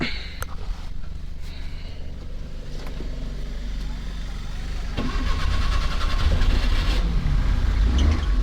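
A car engine cranks and fires up, then settles into a steady, close idle that grows slightly louder and rougher toward the end. A person talks over it.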